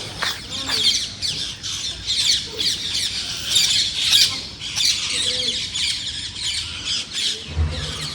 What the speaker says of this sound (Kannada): ನೋಡಿ ಎಷ್ಟು ಪಕ್ಷಿಗಳು ಹೋಗ್ತಾ ಇದೆ